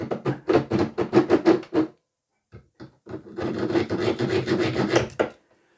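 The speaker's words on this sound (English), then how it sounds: "I think I'll finish it off with the hacksaw" A hacksaw cuts through wire with steady, rhythmic rasping back-and-forth strokes, loud and close, stopping briefly before resuming in a longer continuous run.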